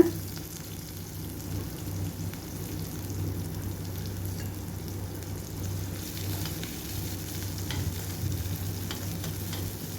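Small onions sautéing in hot oil with cumin in a pan, preparing a goat blood fry; a steady, close sizzle and frying crackle run throughout with occasional stirring scrapes, no talk.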